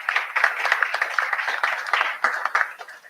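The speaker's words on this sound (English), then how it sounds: "please give Peter a round of applause" Audience applause at a boxing press conference, steady close clapping from a crowd that continues for the whole stretch without fading.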